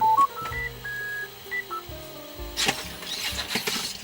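A Sony AIBO ERS-111 robot dog moving around, with whirring servo motors and electronic beeps and tones, fairly loud at close range, followed by a burst of louder clattering mechanical motion.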